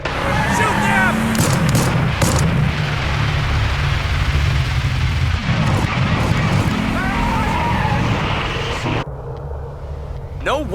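Combat in Hell is Us: repeated heavy gunshots and booming reports crackle over a continuous low rumble, while voices speak at times. The din drops off sharply near the end, leaving a quieter hum.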